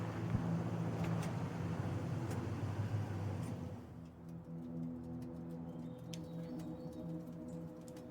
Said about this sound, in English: Is that the fucking car? It sounds like popcorn.